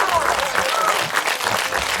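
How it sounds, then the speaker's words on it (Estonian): A concert crowd applauding a drummer, dense clapping throughout, loud and close, with some voices mixed in. "teeme aplausi trummimängile"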